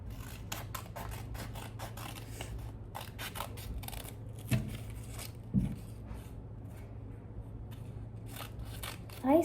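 Scissors snip through paper while a paper squishy is being made, a quick series of crisp, close cuts in uneven bursts with brief pauses and a few rustles and taps.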